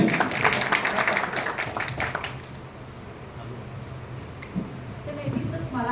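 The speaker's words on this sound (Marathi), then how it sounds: "नक्की टाळ्या वाजवा सगळ्यांनी." An audience breaks into a short burst of clapping that fades within a couple of seconds as a person begins speaking over the room.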